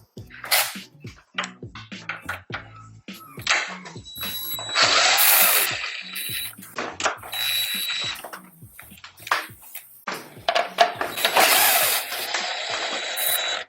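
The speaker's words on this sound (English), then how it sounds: "we're just going to remove those to actually separate the headlight housing" A ratchet or driver clicks and whirs in rapid, uneven bursts while 10 mm headlight bolts come out of a Jeep Wrangler JL, the mechanical ticking close and busy with short louder runs throughout.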